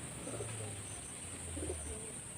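Madras pigeons coo softly, two low throaty coos spaced about a second apart over a steady background hiss.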